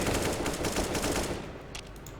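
Rapid automatic gunfire crackles in a CS:GO match, a dense close burst of shots for over a second that thins into a few scattered, quieter reports.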